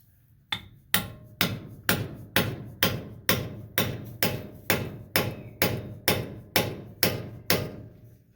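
Hammer blows on a chisel at a taper lock hub on a Case tractor, sixteen sharp metallic strikes in a steady, even rhythm, close and loud with brief ringing after each.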